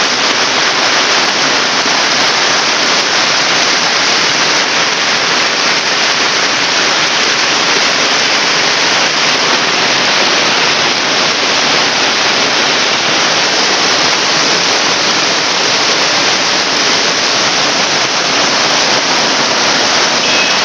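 Floodwater pours over the Ghisarri river causeway on the Netra to Linga Hatta road in Balaghat, a steady, loud broadband roar of rushing water that holds unbroken and close throughout, with no talk.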